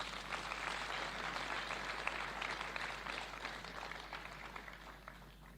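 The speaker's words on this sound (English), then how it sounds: "I think we can clap for our governor" An audience at a university graduation ceremony applauds the governor, a steady wash of many hands clapping from a distance, sustained for several seconds before gradually tapering.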